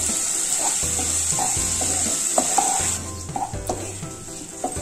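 Onions, green chilli and ginger sizzle in a pan as garam masala is stirred in, a steady frying hiss with repeated soft scraping strokes of a spoon that quiets partway through, close up and without talk.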